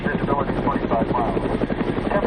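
Red Cross helicopter flying toward the Iranian border and southern Afghanistan, its rotor beating in a fast, steady chop that stays loud and close throughout, with a voice speaking over it.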